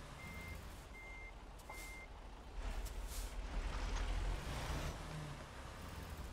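A truck in American Truck Simulator reverses toward a trailer, its backup alarm giving three evenly spaced beeps over a steady engine rumble, followed by hissing air-brake bursts and a louder surge of engine noise.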